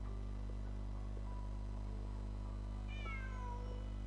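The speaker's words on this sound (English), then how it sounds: "Just a cat." A cat in a video game gives a single drawn-out meow, clear and fairly close, over a steady low electrical hum.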